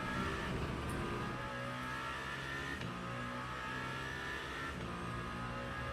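Hypercar engine in the Le Mans Ultimate racing game, a steady, loud mid-pitched drone with layered harmonic whine that shifts slightly in pitch as the car accelerates, continuous for the whole stretch with no talk.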